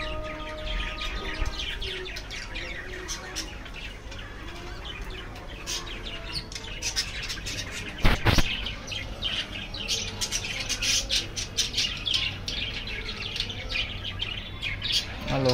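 Pet birds, including budgerigars, chirping and squawking close by in a continuous busy chatter of sharp tweets, with one loud burst partway through.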